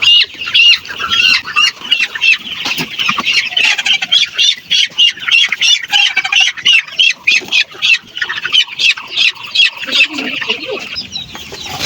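A Sonali super hybrid chicken, 43 days old, squawks loudly and repeatedly while being caught, rapid frantic bursts close up over the clucking of the flock in a poultry house.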